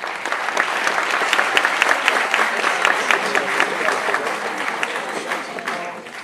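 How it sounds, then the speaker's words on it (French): A conference audience applauds a speaker at HELMo, steady dense clapping from a crowd at moderate distance, tapering off near the end. "je vous demande d'abord de l'applaudir"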